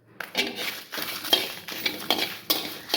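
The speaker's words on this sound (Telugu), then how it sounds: "ఈ మూమెంట్లో మనం ఎండుమిరపకాయలు వేసుకున్నామండి." Dried red chilies stirred into roasting rice in a pan, giving a run of clinking, scraping stir strokes and light rattles at close range, with no talk.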